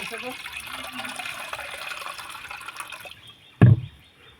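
A raw potato is rinsed clean in water, with trickling, splashing sounds at a moderate level over a few seconds, then a short, sharp splash or thud before things go quiet.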